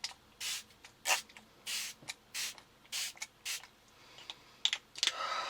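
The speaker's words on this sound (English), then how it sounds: "the next thing is to take the Smashbox Prime and Spray." Smashbox Prime and Spray setting spray hisses in a string of short, close bursts, about eight quick spritzes in an irregular rhythm with brief quiet gaps between them, no talking over it.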